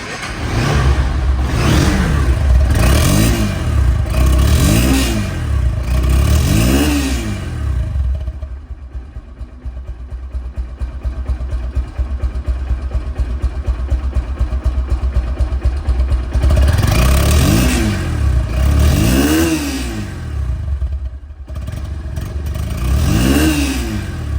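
A Honda X-Blade motorcycle, a 2024/25 model sold second-hand, revs repeatedly in loud rising-and-falling bursts close by, settles into a steadier idle-like drone midway, then revs again several times.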